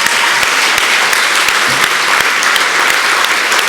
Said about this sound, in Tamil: எழுந்து நின்று நாம் மகிழ்ச்சியும் வாழ்த்துக்களையும் கைத்தட்டி அவர்களை தெரியப்படுத்த வேண்டும்